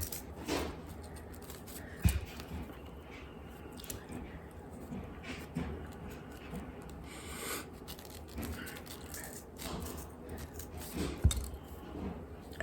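Scissors cut slots in ribbon for Christmas crafting, quiet snips and rustling with a couple of sharper clicks, close by with some speech.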